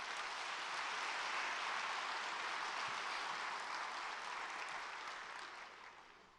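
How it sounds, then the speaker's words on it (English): Sustained applause from a civic audience honoring the Long Beach City Council at a State of the City address, a dense steady wash of many hands that holds level and then fades out toward the end. "Give them a round of applause."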